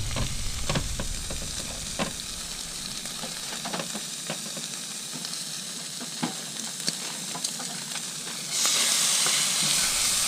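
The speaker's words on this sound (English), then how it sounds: "We're going to throw in some onions." Chopped onions frying in a hot pan give a continuous crackling sizzle with scattered sharp pops, then a sudden louder hiss near the end as more onions hit the pan.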